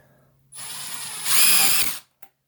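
A Milwaukee M12 Fuel second-generation brushless impact driver whirs up close while driving a short half-inch sheet metal screw, then briefly rises into a harsher, louder burst before cutting off.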